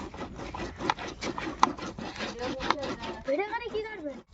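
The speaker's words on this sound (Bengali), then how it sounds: "এই ছিদ্রের উপরে ভালো করে ঘষে এগুলো দেখুন কত সুন্দরভাবে মিহি করে নেওয়া হচ্ছে" Pumpkin rubbed over a perforated metal plate to grate it fine, giving repeated scraping, rasping strokes at a steady rhythm, up close and under a voice.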